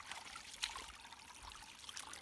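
Spring water from the mountains trickles quietly in a steady, faint babble, with a small splash now and then and no voices.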